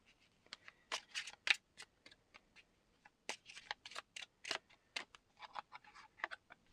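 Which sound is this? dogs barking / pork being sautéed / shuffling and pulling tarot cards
shuffling and pulling tarot cards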